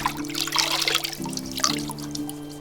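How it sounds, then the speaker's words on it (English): Water splashes and trickles steadily as a character bathes in Oxbow, a survival building game, with a continuous watery wash over a low game hum. "Let's have a quick shower. A bath or whatever."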